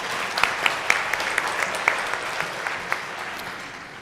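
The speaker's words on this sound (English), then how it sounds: "Please clap for yourself." Graduates applauding themselves at a graduation ceremony in a hall, a moderate wash of clapping with distinct sharp individual claps popping out near the listener over about four seconds.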